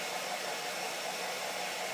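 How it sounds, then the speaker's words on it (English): A hair dryer blows steadily over liquid latex elf ears as they are rotated to dry, a constant loud broadband whoosh with no pauses or talk. "And hopefully with the hair dryer,"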